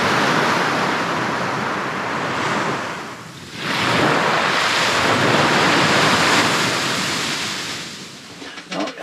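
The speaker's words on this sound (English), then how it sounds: "that normal sort of nice continuous whooshing noise you hear from the ocean" Continuous whooshing surf of ocean waves washing onto a beach at Port Stephens, Australia, loud and steady with a brief lull before the next wave rolls in, with wind noise and no talk.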